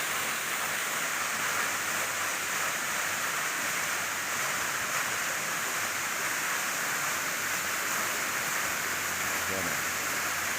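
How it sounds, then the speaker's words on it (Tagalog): Pasalan Falls pours continuously into a clear, deep, cold pool, a loud, steady broadband rush of falling water that fills the whole scene without pause. "Yan ang falls dito sa Pasalan guys."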